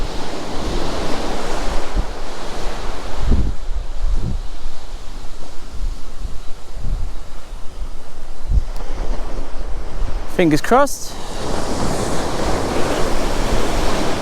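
Strong, steady wind gusting around 18 to 20 knots roars across the microphone by the sea, with surf rumbling underneath and brief louder gusts; a voice speaks briefly near the end.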